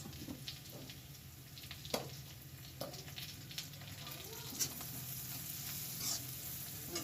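Chopped green chilies fry with onions in a pan, a faint steady sizzle with occasional light stirring taps, low and distant-sounding.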